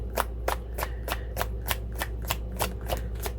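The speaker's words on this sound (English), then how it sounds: "I was shuffling the cards a certain way" Tarot cards are shuffled by hand in a steady rhythm of about ten crisp, close riffling snaps, each a sharp papery flick over a low background hum, with no talking.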